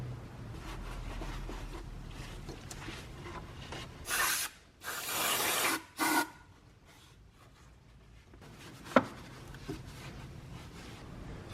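Mating surfaces of a BMW N54 oil filter housing being cleaned: a low, steady rubbing, then two loud, short hissing bursts like spray or hard scrubbing, and later a single sharp click, all close by with no voices.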